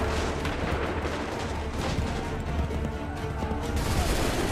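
Sustained, dense rumble of massed musket volleys and booming battle noise in Assassin's Creed 3, loud and continuous with no clear gaps between shots.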